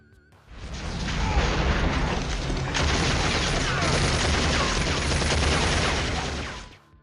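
Gunfire erupts during the theater battle in the 1997 film The Fifth Element, a loud, dense, continuous barrage of shots and blasts that holds steady for several seconds before cutting off.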